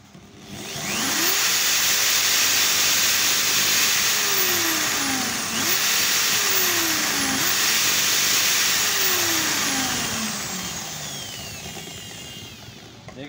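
A Kia Baleno's motor, rigged as a generator, runs steadily and close by for most of the clip, giving a whirring, vacuum-like hum with rising and falling pitch sweeps as it speeds up and slows.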